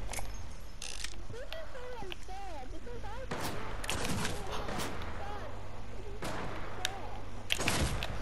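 Gunfire in the battle royale game Fortnite, sharp shots in scattered bursts among other game effects, with a voice talking over the action.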